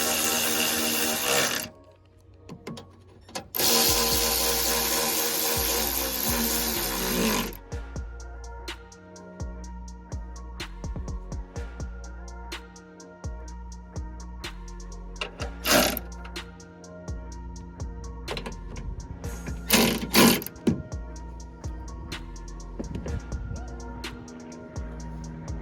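Headlight mounting bolts are tightened on a 2012 Chevrolet Silverado during a smoked headlight install, with loud ratcheting bursts early on, then quieter clicks and metallic taps.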